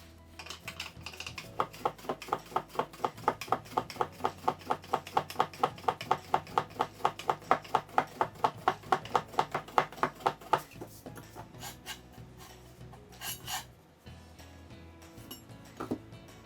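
Rapid, even knife strokes slice through hand-made nihachi soba dough on a board, a long steady run of sharp taps that stops near the end, followed by a few softer handling sounds.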